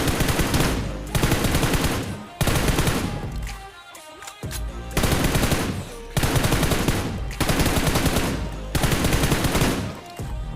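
Loud automatic gunfire in a mobile shooter game, fired in long sustained bursts with short quiet gaps between them, close and dense.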